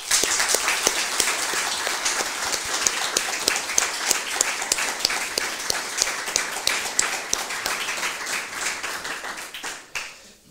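An audience applauds after panel discussions at an event on diversity, inclusion and artificial intelligence, steady dense clapping from a crowd for about nine seconds before fading out.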